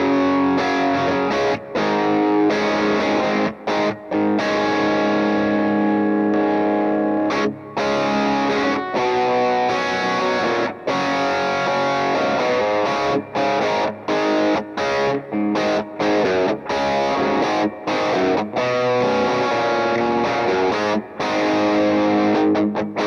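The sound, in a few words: electric guitar through Tone City Bad Horse overdrive pedal, amp drive channel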